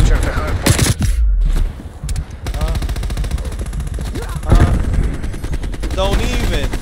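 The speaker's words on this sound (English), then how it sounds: "This shotgun looks crazy." Loud, dense gunfire in Black Ops Cold War multiplayer Hardpoint, with a shotgun and other weapons firing in heavy bursts. Game announcer voices and a player's talk run over the shots.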